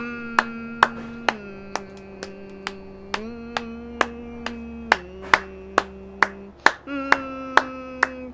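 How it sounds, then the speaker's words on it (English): One person claps hands in slow, sharp single claps, about twenty spread irregularly, while humming a steady low tune throughout, done as part of training a dog to tolerate odd behavior. "So 15 seconds while I clap and hum."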